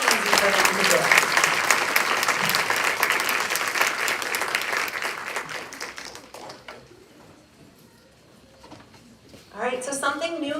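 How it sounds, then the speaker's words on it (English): Sustained audience applause with dense clapping at a school board meeting in an elementary school, fading out after several seconds before a voice begins speaking. "Let's have another big round of applause"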